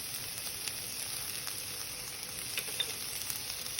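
Onions and chopped peppers fry in a pan with a steady, faint sizzle and hiss, with occasional light stirring scrapes and no talking.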